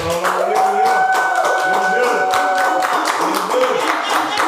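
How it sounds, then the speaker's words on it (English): An audience claps steadily in a fast, continuous patter of close hand claps, carried under a voice and some tonal sound. "Everybody start clapping right now."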